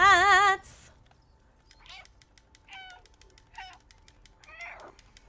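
Several cats meow in the video game Stray, a loud harmonic cry opening, then a handful of short, softer meows spaced across the rest, fairly near.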